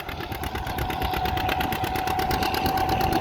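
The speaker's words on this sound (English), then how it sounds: "We got a John Deere G." A John Deere G tractor engine runs steadily at a plow day with a three-bottom plow, giving a close, continuous mechanical throb with a regular pulsing rhythm and no talk.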